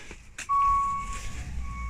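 A single clear electronic beep, like a vehicle's reversing alarm, sounds once over a low rumbling background in a garage setting.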